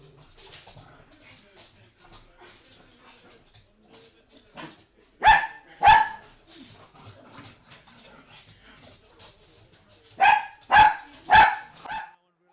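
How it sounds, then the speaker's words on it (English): Dogs at home bark in loud, close bursts, a pair midway and a quick run of three or four later, with softer whimpering and room noise between, during a live British & Irish Lions vs South Africa rugby watch-along. "I just knew that the dogs would start going crazy."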